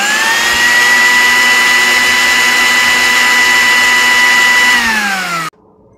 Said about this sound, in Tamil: இப்போ நம்ம வந்து அரைச்சி எடுத்துடலாம்